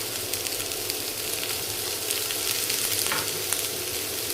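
Onion and cut green chillies frying in a pan, a steady close broadband sizzle that swells slightly partway through, with faint stirring scrapes and no talk.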